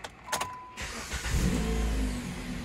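A Jeep Compass engine cranks briefly and catches, then settles into a steady, loud idle close by, with no voices.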